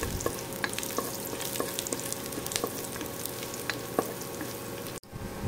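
Garlic sizzles and crackles steadily in rendered pork fat for a humba-style dish, with scattered pops and a brief stirring clatter near the end.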